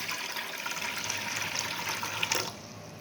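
Warm water pours from a tap into a large bowl, a soft, continuous running splash that cuts off near the end, with no talking.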